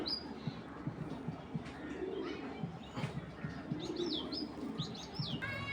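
Racing pigeons coo in low, repeated throaty murmurs close by, with a few higher chirps and faint rustling over a constant dense background.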